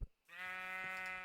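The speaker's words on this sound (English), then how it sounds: "There's a sheep." A single sheep bleat in a blocky sandbox video game, a clear drawn-out tonal cry following a brief thump, heard alone and at moderate distance.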